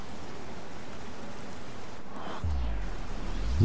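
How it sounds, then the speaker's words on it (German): Slow-motion raindrops in the video game Watch Dogs, a steady hiss of rain with a deep whooshing swell building near the end. "Diese Zeitlupen-Regentropfen sind geil."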